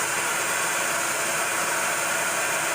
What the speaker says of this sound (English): This vacuum had no air pressure. Look at now.